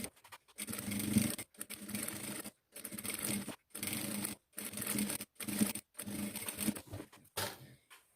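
A sewing machine stitches a diaper hem in repeated short bursts of rapid mechanical whirring, each run separated by brief pauses, close and fairly quiet.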